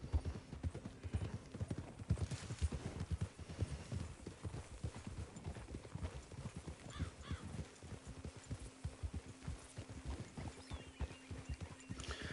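Horse hooves clip-clop in a steady walking rhythm in a video game, fairly quiet, with a faint low hum underneath and no voices.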